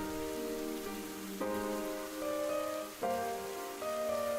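Rain falling in the video game Ender Lilies, a soft, steady patter beneath quiet, sustained musical tones that shift every second or so.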